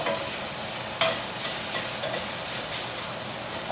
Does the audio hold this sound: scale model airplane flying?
no